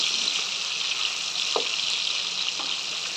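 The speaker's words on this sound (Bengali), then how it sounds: "তেলটা গরম হয়ে গেছে, এখন মাছগুলো দিয়ে দেব।" Hilsa fish fry in hot mustard oil with a steady, close, hissing sizzle, marked by a couple of brief clinks or stirring touches and no voices.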